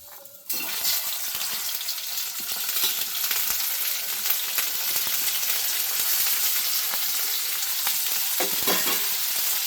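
Spices and vegetables frying together in hot oil in a pan for a vegetable saagu, with tomato, chilli, ginger, garlic, cardamom, coriander, cumin, cashews, cinnamon and poppy seeds; a dense, steady close sizzle starting abruptly and continuing throughout.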